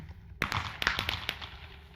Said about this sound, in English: That's a little bit of fireworks there.